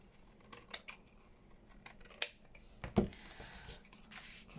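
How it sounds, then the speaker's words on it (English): Scissors snip a few times through paper being trimmed for a book page pocket, quiet close cuts with sharp clicks scattered among soft rustling. "I'm just gonna trim that down."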